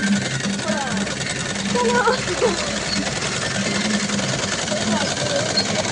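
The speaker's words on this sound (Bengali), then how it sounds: "এও সেলাই শিখছে বিনা সুতোয়, শুধু মেশিন ঘুরিয়ে যাও" A sewing machine run without thread hums and whirs continuously at close range while people talk over it.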